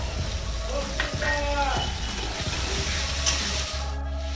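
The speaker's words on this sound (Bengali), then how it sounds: "এই মশলাটা এবার দিয়ে দেবো, দিয়ে জল দিয়ে দিলাম" Ginger, garlic and dried chilli paste with water sizzling and bubbling in a hot pan while cooking a drumstick vegetable dish, a steady close frying hiss with stirring clinks and a voice talking over it.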